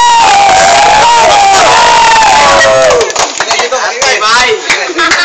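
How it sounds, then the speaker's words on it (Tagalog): A crowd at a Fliptop rap battle in Siquijor roars and cheers loudly at close range, then breaks into choppy shouts and whoops as the noise drops slightly. "Time! Time! Palakpak!"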